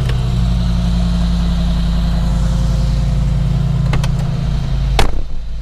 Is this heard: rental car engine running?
yes